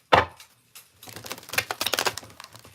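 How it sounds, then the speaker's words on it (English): A deck of tarot cards is shuffled messily, with a sharp riffle snap at the start and then a quick run of light clicking and flapping card sounds close by. "Did you see that shuffle?"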